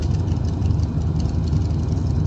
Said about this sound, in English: The neighbor's got a motorcycle and is going to go for a ride.